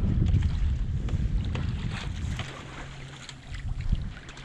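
A 1970 Contessa 26 sailboat moves under sail in a light breeze, with steady wind buffeting the microphone and low rushing water against the hull, close and continuous.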